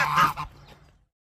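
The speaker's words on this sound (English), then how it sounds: "Goose, the goose is walking." A single goose gives one loud, close honk that fades into a short quiet tail.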